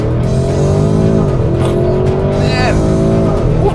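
A 2024 Porsche Cayenne Turbo GT launching under launch control, its engine roaring loud and steady as it accelerates through rising pitch sweeps and gear changes, with a voice over the top.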